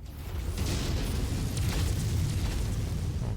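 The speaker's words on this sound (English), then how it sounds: "That mech is going critical." A battle mech from MechWarrior blows up after going critical, a loud, sustained explosive roar with deep rumbling that fills the whole moment without letting up.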